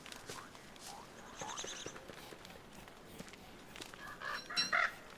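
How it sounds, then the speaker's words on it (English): A caged bird in the video game Don't Starve chirps and squawks in short bursts, loudest near the end, over a busy game soundscape with light clucking-like calls. "Can I actually feed the bird?"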